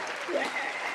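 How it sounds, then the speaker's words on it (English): Brief crowd applause as a dense, even patter of clapping, with a faint voice or whistle-like tone over it. "The crowd is going wild."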